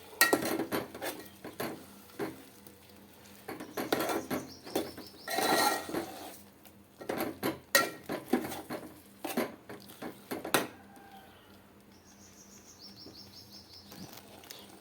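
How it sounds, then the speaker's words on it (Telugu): Spoon clinks and scrapes against a pot while peanut paste is stirred into a vegetable curry with drumsticks, a series of sharp metallic taps and short scraping bursts with quiet pauses between. "సో ఇప్పుడు మనం పట్టి పెట్టుకున్న పల్లీ పేస్ట్ కూడా వేసేస్తున్నాను వీటిని ఒకసారి కలపెట్టేద్దాం"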